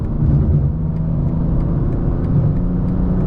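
A deep, steady engine rumble with a whirring drone as a 2024 BMW M2 twin-turbo accelerates at moderate load onto a highway, close and loud, with no voices.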